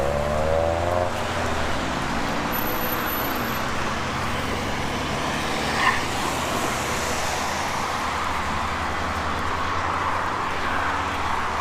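Traffic at a freeway on-ramp in Portland, Oregon makes a loud, continuous roar of passing vehicles with steady tire and engine rush, heard up close without any talking.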